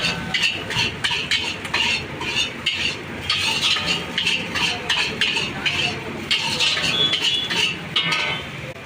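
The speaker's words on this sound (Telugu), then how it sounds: "ఇప్పుడు ఫైనల్ టచ్గా ఒక్కసారి రైస్ని మొత్తం దడదడలాడియాలి" Manchurian fried rice, made without egg, is tossed and stirred in a wok, with rapid rhythmic metallic scraping and clinks over a light frying sizzle, close and busy throughout.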